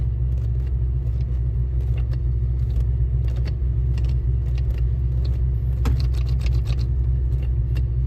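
A Volkswagen T5 van shifting in and out of gears in cold weather: scattered mechanical clicks and clunks from the gear lever over a steady low engine rumble, with no talk.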